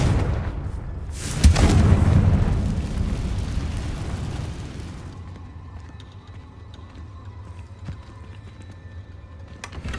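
A Confringo spell explosion in a Hogwarts video game lands as one loud, close boom about a second and a half in, then fades into a low rumble and quieter ambient game sounds.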